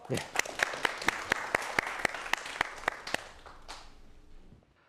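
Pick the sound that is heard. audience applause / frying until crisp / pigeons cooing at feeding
audience applause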